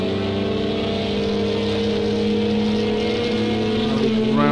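A Toyota race car engine screams at high, steady revs during an endurance race at the Nurburgring in Project CARS 2, loud and sustained with the pitch climbing near the end, no talk.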